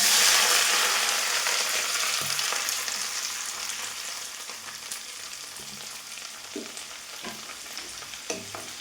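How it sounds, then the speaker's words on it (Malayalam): Shallots and curry leaves sizzle in hot oil, a loud hiss at first that slowly fades, with a few scattered clicks of a spoon against the pan toward the end. No one speaks. "ഒരു അഞ്ചാറ് ചെറിയ ഉള്ളി"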